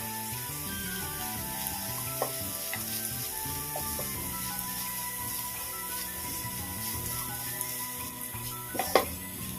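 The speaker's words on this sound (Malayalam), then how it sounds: "അത് ചേർത്ത് നന്നായിട്ട് മിക്സ് ചെയ്യാം" Bitter gourd thoran with freshly grated coconut is stirred in a hot pan, giving a steady close sizzle with scattered soft scrapes and clinks of the spoon against the pan throughout.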